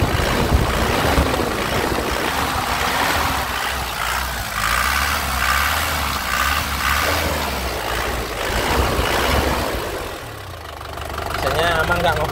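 An engine near a parked vehicle is throttled up several times, its revs rising and falling over a rough idle, loud and close, with someone talking over it.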